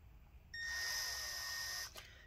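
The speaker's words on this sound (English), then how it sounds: "we're gonna keep drilling these things out" A drill bores out screws on a Dell Inspiron 5575 laptop, giving a high, whining buzz that runs steadily for about a second and a half and then stops.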